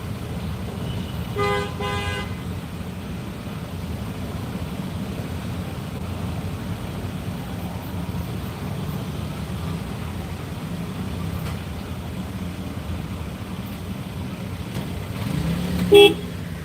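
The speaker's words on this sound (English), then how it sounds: "Well, legally, you're supposed to honk at anyone anytime you pass them." A single short car horn toot sounds near the end over steady traffic rumble on a Phnom Penh street, with a faint earlier beep in the background.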